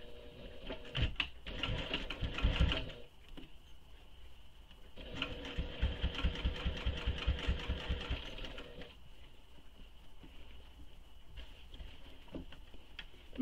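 A sewing machine stitches a clutch bag in two bursts of rapid, rhythmic needle clatter, a short run followed by a longer one, with quieter pauses between.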